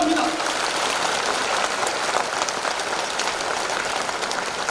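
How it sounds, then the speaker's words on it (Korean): A church congregation at a thanksgiving service for a vice moderator's installation applauds warmly, a steady wash of many hands clapping throughout, fairly even in level, with a voice briefly audible at the start. "다시 한번 우리 부총회장님 뜨거운 박수 부탁드립니다."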